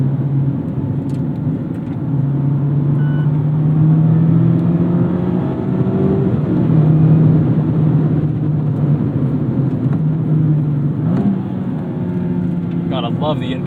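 A Mazda MX-5 Miata ND3 engine with a different exhaust, a loud droning note heard from inside the car that climbs and drops as the revs rise and fall through the gears.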